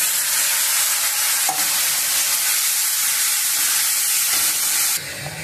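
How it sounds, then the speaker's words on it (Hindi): Ground masala spices fry in a kadai for a potato curry, giving a loud, continuous close sizzle and hiss with occasional stirring, and no voices. "मसाला को हम अच्छी तरह से भूनेंगे।"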